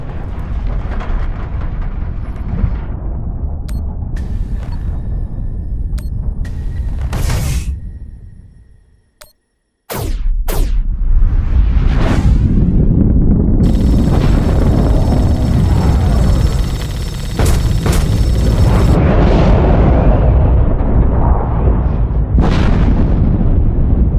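Torpedo launches and explosions in space combat from The Expanse: A Telltale Series video game, with loud booming bursts and rumbling blasts, a short drop to near silence midway, then sustained heavy roaring and crackling impacts.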